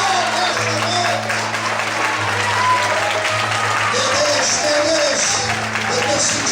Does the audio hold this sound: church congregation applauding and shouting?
yes